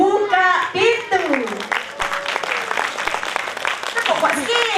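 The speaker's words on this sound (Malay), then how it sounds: "Apa kata kita beri tepukan untuk Little Diamond dengan acik-acik buka pintu" Applause breaks out at a kindergarten concert for Little Diamond, with clapping from the audience mixed into children's voices and adult chatter, fairly close and busy throughout.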